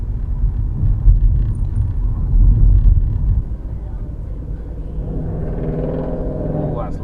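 A loud Porsche engine rumbles past on a Nottingham street, with a strong low rumble for the first few seconds before it fades into lighter traffic noise.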